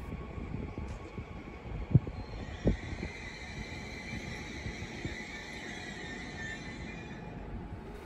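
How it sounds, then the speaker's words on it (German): A Bombardier Twindex train moves through Donauwörth station with a steady, close rolling rumble and a high electric whine layered above it. Two sharp clunks stand out early on, and no one speaks. "Und hier haben wir einen Twindex von Bombardier."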